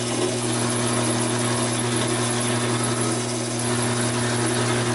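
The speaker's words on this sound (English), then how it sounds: "Quarter-inch bit seems to be going right through." A Taig lathe drills through a steel bar with a quarter-inch bit, giving a steady motor hum with strong low tonal lines and grinding noise, continuous and close throughout.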